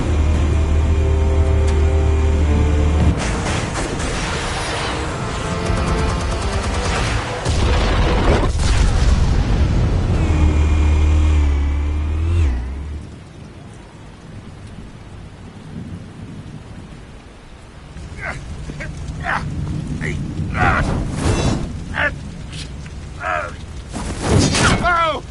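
Explosives detonate in Batman: The Telltale Series, a heavy booming, rumbling blast that fills the first half before settling into quieter debris and ambience, with voices speaking afterward.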